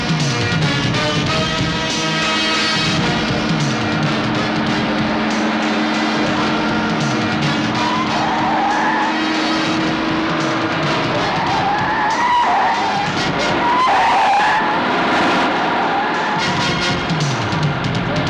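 A car races after a lorry on a road in a movie chase scene. Tires skid and squeal with a loud, continuous engine roar throughout, under layered dramatic sound.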